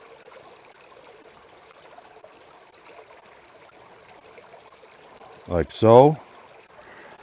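Water pours from an opened bottle into a water purifier's reservoir in a short gurgling splash near the end, after a stretch of quiet room tone and brief talk.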